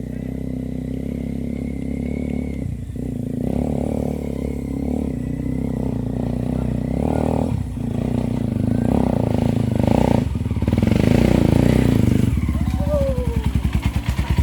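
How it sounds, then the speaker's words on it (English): An off-road motorcycle climbs a steep jungle enduro hill in Pai, Thailand, its engine loud and steady, straining and rising in revs toward the end, with brief dips and voices talking over it. "this is the steepest hill I've ever ridden, and it's off-road, and Lydia's been smashing it today"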